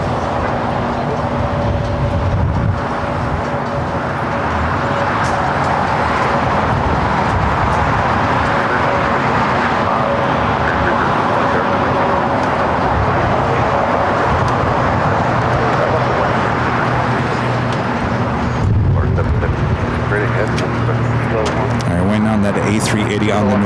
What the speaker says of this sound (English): Asiana, Flight 201, the A380 Super heading back to Seoul, lined up, ready to go on the north side in 24 left